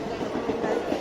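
Train rumble and rolling wagon noise at a station platform as a train pulls in, a steady mid-low rumble heard alone for about a second.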